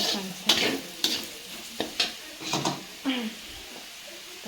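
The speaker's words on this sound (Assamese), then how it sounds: "আলুখিনি ফাৰ্ষ্টত ভাজি লৈছোঁ এনেকৈ" Potatoes stir-fry in a pan with repeated scraping strokes of a spatula over a steady sizzle, each stir loud and close. A voice speaks briefly between the strokes.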